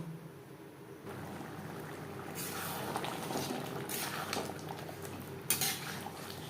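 Chicken ghugni simmering in a pot, with soft bubbling and occasional spoon scrapes and clinks against the metal, including one sharper knock near the end; no talking.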